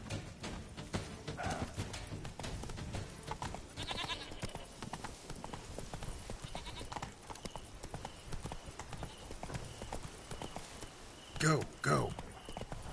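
Hooves of the horse Roach clip-clop in a steady running rhythm in the video game Witcher 3, with a louder whinny near the end and a voice speaking over parts of it.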